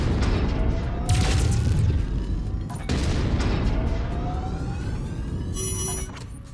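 Gunfire at a mech's cockpit in the Javelin JVN-10N game, a loud sustained roar of shots and blasts with sharp bursts, and high electronic tones near the end.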